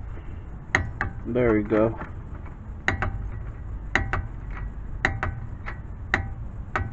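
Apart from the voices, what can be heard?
torque wrench tightening bolt to 24 foot-pounds on Nissan Sentra brakes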